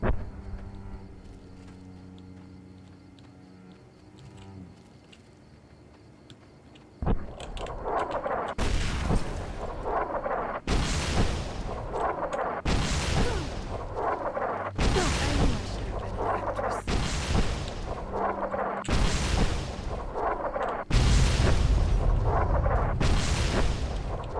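Bombs dropping in Fallout New Vegas, a run of about seven loud, evenly spaced explosions, each a deep booming burst, following a quieter stretch of ambient game sound.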